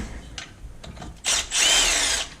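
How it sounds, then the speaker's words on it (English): A stubby impact wrench takes out water pump bolts on a 2016 Chevy Express 2500, giving a short burst followed by a longer rattling hammering run, close and loud after a few faint clicks. "let's put this stubby impact, rip them out"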